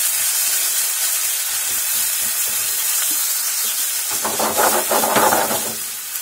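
Tomatoes hit a hot pan and are stirred into pasta with turkey cheese, mozzarella, luncheon meat and olives, giving a steady close sizzle and hiss that swells into brighter, louder crackling toward the end, with no talking.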